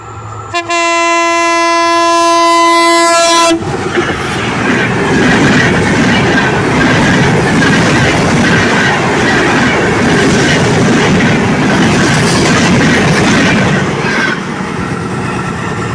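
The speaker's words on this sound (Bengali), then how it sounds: "ট্রেনটি চলে গেল।" A train passes close by: a loud horn blast sounds first, then heavy rumbling and rattling wheel clatter roll on steadily for about ten seconds before easing off near the end.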